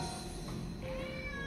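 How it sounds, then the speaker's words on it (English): A Manx cat gives one clear, fairly close meow that rises and then slides in pitch over a soft background hum. "They're Manx cats."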